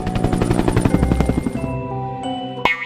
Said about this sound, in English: H is for helicopter.